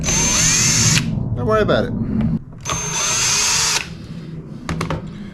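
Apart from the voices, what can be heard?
electric power tool removing screws from a Squier Jazzmaster guitar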